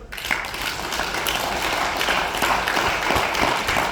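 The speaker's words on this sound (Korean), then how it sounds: "박수 한번 치세요" Sustained applause from a lecture audience at a seminar on Korean reunification, dense and steady throughout, loud and close with no talk over it.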